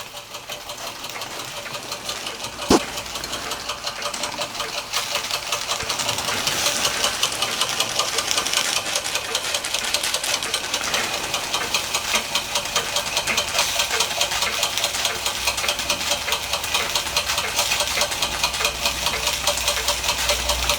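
A Josef Falk overtype model steam engine with a repaired crankshaft runs steadily, a fast continuous mechanical chatter and knock with a brief sharp click near the start, close and fairly loud throughout.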